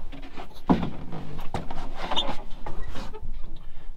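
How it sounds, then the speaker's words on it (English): The cab door of a John Deere 2038R compact tractor fitted with a Curtis Advantage cab is pulled shut, a nearby clunk and rattle followed by soft shuffling inside the cab. "Shut the door."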